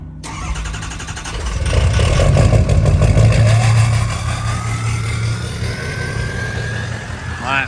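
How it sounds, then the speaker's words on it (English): A 6-liter engine at a junkyard cranks and catches, roars through a loud rev, then settles into a rough, steady running note close by. "let's get a 6-liter startup"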